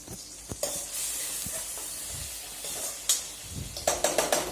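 Masala-coated brinjal fries in hot oil for a kathrikai kuzhambu, a close steady sizzle broken by a few clinks and stirring knocks, with a run of sharp taps toward the end and no talk.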